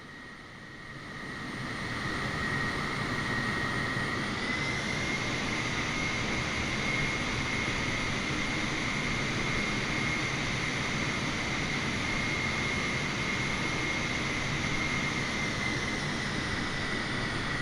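Airliner jet engines spooling up for takeoff in a flight simulator game, a loud steady roar with a rising whine that builds over the first seconds and then holds, with no talk.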